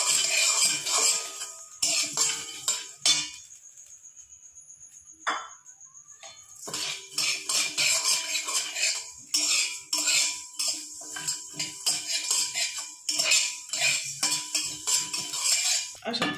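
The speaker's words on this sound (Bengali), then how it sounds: "এবার আমি মশলাগুলো ভেজে নেব শুকনো খোলায়" Cumin, coriander and fennel seeds being dry-roasted in a hot wok, with a spatula or spoon scraping and clinking against the metal pan in bursts, close and clear, broken by a few quiet pauses.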